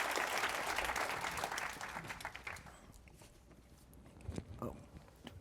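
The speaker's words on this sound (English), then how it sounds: "please give him a big applause" Conference audience applause for a speaker at Data Con LA 2019, loud at first and then fading into scattered claps and footsteps on stage.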